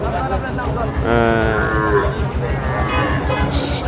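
A bull moos loudly at a Bangladeshi cattle market, a long, harmonic low call that holds for a few seconds over steady crowd murmur and background chatter.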